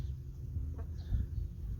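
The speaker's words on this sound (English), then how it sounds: "It's just our neighborhood duck coming in." A neighbourhood duck calls faintly in the background over a steady low rumble, a brief, quiet call heard while working on a VW New Beetle.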